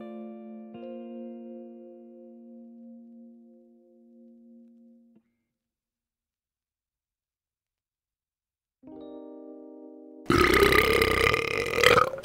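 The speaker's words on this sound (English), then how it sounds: "Yep, that was a belch." A loud, harsh belch bursts out at close range near the end, following quiet tonal electronic notes and a silent gap.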